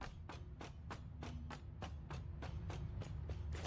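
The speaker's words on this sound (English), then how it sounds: "The Blade Runners sound the same no matter what you're running on." Blade Runners footsteps in the Satisfactory video game, a quiet, steady run of about a dozen evenly spaced, crisp taps, each footfall sharp and identical, set over a low ambient hum.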